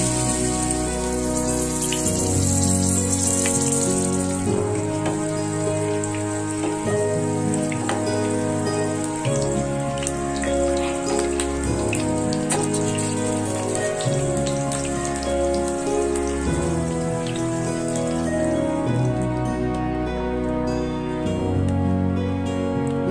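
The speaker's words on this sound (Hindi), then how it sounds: "अब एक एक करके फ्राई कर लेती हूँ।" Stuffed capsicums filled with paneer fry one by one in a pan, giving a continuous loud sizzle and crackle of oil with gentle stirring and no talking.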